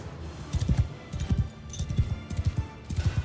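Massed cavalry gallops in a Mount & Blade II Bannerlord battle, with rapid, rumbling clusters of hoofbeats repeating steadily at a moderate distance.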